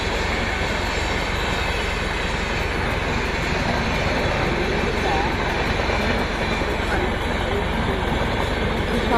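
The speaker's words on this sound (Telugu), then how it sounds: "ట్రైన్ వచ్చేసింది." A long train passes close by, giving a loud, continuous rumble and rattle of wagons on the rails with faint squeals, steady throughout.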